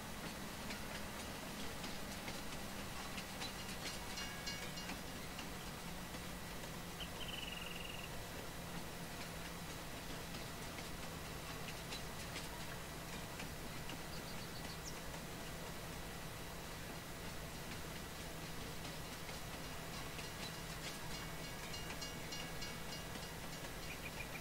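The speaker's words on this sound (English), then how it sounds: "Like about now, we have a runaway train." A runaway train rolling without slowing in Farming Simulator 19, a steady dense rumble with sustained tonal hum and faint ticking, constant level throughout with no talk.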